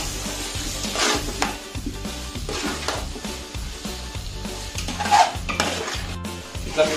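Prawn curry being stirred in a metal pot, a steady scraping and clinking of a spoon against the pan over a continuous low simmering sizzle, close and fairly loud.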